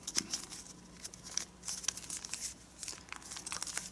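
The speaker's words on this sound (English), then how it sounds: "let's fold this flap up and turn over and fold this flap up" Square origami paper is folded and creased by hand, giving soft crinkles, rustles and sharp crisp crackles in irregular bursts, close and fairly quiet with no talking.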